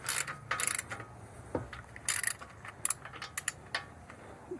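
Wrench ratcheting while loosening a bolt on the front control arm of a 2010 third-generation Hyundai Accent, irregular bursts of clicking and metallic scraping close up over a faint background hum.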